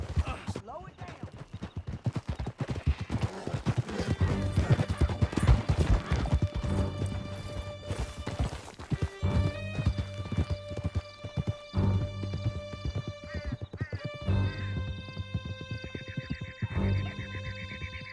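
A horse galloping hard in Red Dead Redemption 2, its steady rapid hoofbeats close and continuous under bursts of dialogue and background game music.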